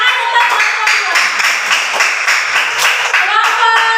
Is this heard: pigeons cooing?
no